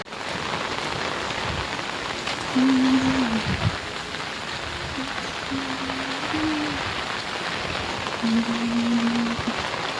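Heavy monsoon rain pours down steadily in Gujarat, a loud, continuous, dense hiss of drops on surfaces lasting throughout, with no voices.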